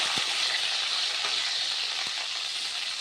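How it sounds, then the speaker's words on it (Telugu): Green chillies fry in hot oil in a pan, a loud, close, continuous sizzle with a couple of soft stirring knocks. "చూడండి పచ్చిమిర్చి అయితే వేగిపోయాయి సరిపోతుంది ఇలా వేసి"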